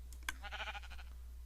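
A sheep in the Minecraft Crash Landing modpack gives one short, wavering bleat, faint and alone over a steady low hum, with a couple of soft clicks just before.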